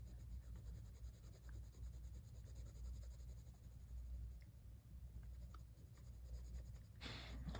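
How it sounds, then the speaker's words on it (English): Soft, steady scratching of a 4B graphite pencil deepening shadow on paper in a sunflower drawing, a quiet continuous rasp with low room rumble, ending in a brighter burst of stroke noise. "let's take our 4B pencil and really deepen this shadow in here a little bit more"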